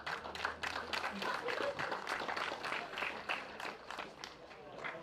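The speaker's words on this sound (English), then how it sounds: "one last round of applause for Group I" Applause from an audience at a kart racing event, a steady patter of clapping with scattered footsteps, fairly faint, with talk over it.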